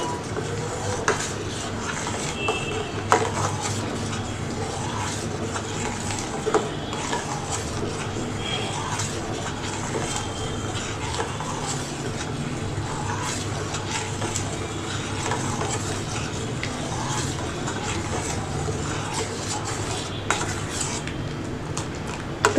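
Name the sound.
stirring china grass in a pan until it dissolves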